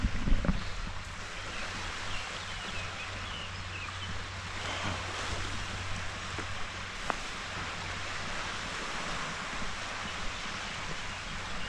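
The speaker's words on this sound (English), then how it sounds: "just sit here and let the waves crash for a little bit." Waves wash continuously onto the Lake Geneva shore near l'Île aux Oiseaux, a broad, steady surf hiss mixed with wind, moderately quiet and with no talking.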